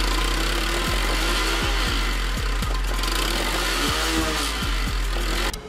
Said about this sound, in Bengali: আসুন এবার শুনে নেওয়া যাক বাইকটির সাউন্ড কীরকম।